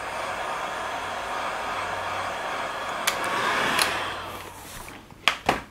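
A heat gun or hair-dryer-style heater blows steadily while warming the side of a plastic Bell half helmet before adhesive goes on, a continuous close whooshing roar with a few clicks and knocks near the end.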